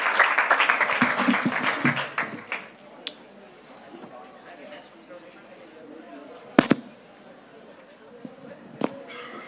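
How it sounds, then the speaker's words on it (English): Applause from a conference audience at a stage event rises loudly at the start, then fades within about two seconds, leaving a quiet room with a few isolated knocks and clicks. "Big applause, please."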